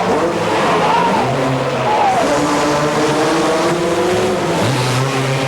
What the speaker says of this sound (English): Sean Sims powers out to the number 1 corner, and they really battle for spot 3